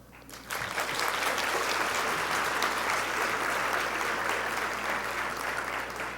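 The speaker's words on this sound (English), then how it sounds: "We applaud you both." An audience at a ceremony honoring African American first ladies bursts into applause after a quiet start, and the dense, even clapping holds steady to the end.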